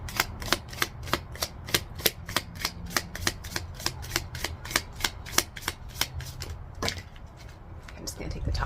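Tarot cards being shuffled by hand in steady, rapid riffling snaps, followed by a brief jumble as several cards slip and fall, with a soft voice in the background.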